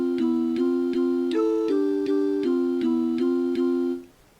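Voices sing a slow melody in parallel fourths or fifths, two steady sustained lines moving together in even note changes, close and clear, ending with a brief fade to near silence.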